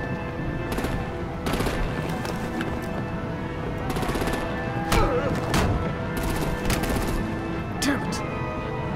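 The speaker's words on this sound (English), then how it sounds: "Break out the artillery and disable their vehicles!" Rapid bursts of gunfire and heavy artillery blasts from the Telltale's Batman video game, with repeated sharp volleys and booms over a dense, constant action soundscape.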